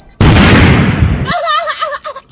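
A bomb explosion bursts as one loud, close boom that holds for about a second before cutting off, followed by a voice speaking or exclaiming.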